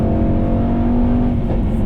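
A 2018 Mercedes-AMG E63S wagon's engine under acceleration, a loud, sustained throaty drone with a steady tone rising slightly as speed builds.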